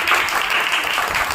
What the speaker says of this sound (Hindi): तालियां एक बार बजाइए